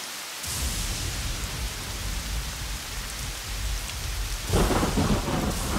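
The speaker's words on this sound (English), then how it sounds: "It will be a while before the rain stops." Cartoon heavy rain pours steadily with deep thunder rumbling through it, swelling louder near the end. Nobody speaks.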